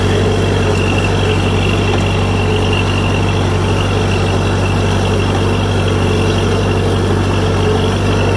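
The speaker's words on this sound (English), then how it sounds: "I got him in first gear and just letting him get used to the tractor, listen to it" A vintage Minneapolis Moline G1000 Vista tractor engine runs steadily and loudly in first gear while plowing, a constant low rumbling drone with no pauses and no voices.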